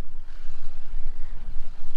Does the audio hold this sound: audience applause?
no